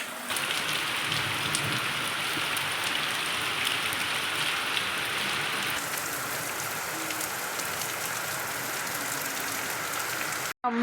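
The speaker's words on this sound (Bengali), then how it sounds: "যা বৃষ্টি পড়ছে" Heavy monsoon rain pours down with a dense, continuous hiss of drops hitting surfaces. It holds steady for about ten seconds, then cuts off abruptly.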